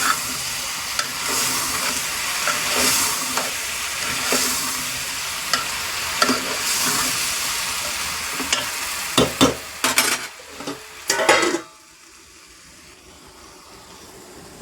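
Tomato pieces fry in a hot pan with a loud, steady sizzle and bursts of stirring scrapes, sharper clatters near the end before the sound cuts off abruptly.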